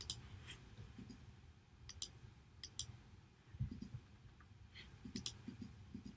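Computer mouse clicks in embroidery software, several faint, sharp clicks scattered sparsely over a quiet background.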